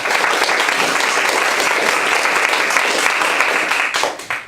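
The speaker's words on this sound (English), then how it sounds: "Round of applause for Ron." Wedding guests clap in a garden ceremony, a loud, dense burst of applause held steady for several seconds before tapering off into a few scattered claps at the end.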